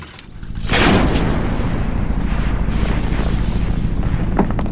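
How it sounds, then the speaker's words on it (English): Anti-personnel landmine detonated by a heavy wind-rolled device, a loud deep blast that swells quickly and then rumbles on in a long, low roar with scattered debris noise. "When it rolls over an anti-personnel landmine, it's heavy enough to detonate the explosive."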